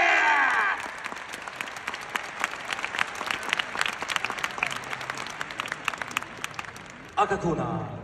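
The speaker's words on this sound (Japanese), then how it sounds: "皆様盛大な拍手をお願いいたします。" An arena crowd at an MMA fight event applauds a heavyweight fighter. Sharp, rapid clapping from many hands continues for several seconds, with an amplified announcer's voice heard at the start and again at the end.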